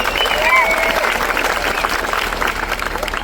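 An audience at a student protest claps in steady, dense applause, loud and continuous throughout with a faint voice mixed in beneath.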